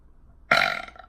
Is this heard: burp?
yes